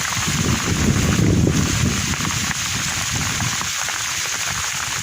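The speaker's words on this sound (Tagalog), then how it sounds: "Ayan na, inabutan ako ng ulan." Steady rain patters and hisses in a broad wash, mixed with gusty wind rumble against the microphone, with no voices.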